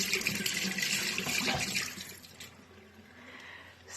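Water runs steadily from a tap while a face mask is rinsed off, a close, hissing stream that splashes and shifts as hands move through it, then eases a little toward the end, with no talk.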